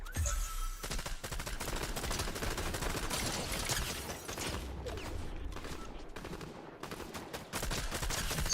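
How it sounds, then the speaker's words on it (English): Video game gunfire in rapid bursts, near and loud, with repeated automatic shots and mechanical clatter continuing almost without pause. "who the fuck's shooting me?"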